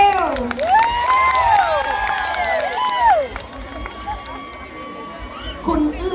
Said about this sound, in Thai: ขอเสียงปรบมือนะคะ